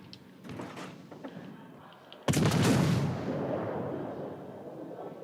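A 14-inch gun battleship fires in World of Warships: Legends: after a few faint knocks, one sudden heavy blast booms out close and loud, then fades into a long rumbling tail.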